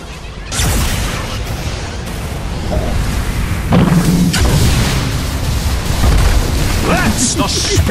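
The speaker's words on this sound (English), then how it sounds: "Dire's middle tower is under attack." A Dota 2 tower under attack: a loud, dense barrage of booms, bursts and crashing impacts from the game's combat, continuous throughout, with a voice speaking over it.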